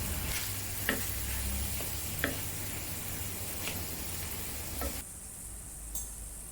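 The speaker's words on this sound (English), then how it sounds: "pour in the chopped tomatoes and continue cooking for about 5 to 7 minutes or until it starts to disintegrate" Onion and chopped tomatoes fry in a pan for dal tadka, a continuous loud sizzle with several light taps and scrapes of stirring, the sizzle dropping slightly toward the end.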